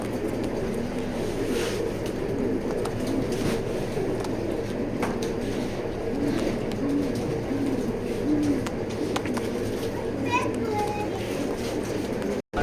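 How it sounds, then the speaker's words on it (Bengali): Pigeons cooing in a pigeon loft where breeding hens are kept, soft low coos running steadily in the background while someone talks over them, with faint children's voices and occasional chirps nearby. "খুবই সুন্দর একটা ব্যালেন্সের কবুতর"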